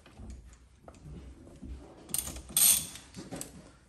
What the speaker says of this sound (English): And we'll just take this bolt out.